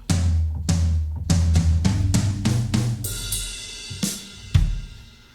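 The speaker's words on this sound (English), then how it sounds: "we can give a drum kit a try" A software drum kit patch plays a short beat: punchy kicks and snare hits in a steady rhythm, then crashing cymbals near the end, clean and close.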